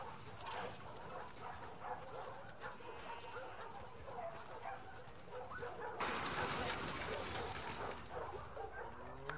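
A dog in The Last of Us Part II barks, yips and whimpers in short excited bursts at close range over a steady game backdrop, with someone talking affectionately nearby.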